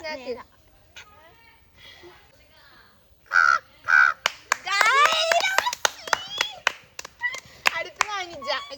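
A person imitates a crow in a mimicry challenge with a series of sharp caws, interspersed with hand claps and taps, close and fairly loud after a quiet start.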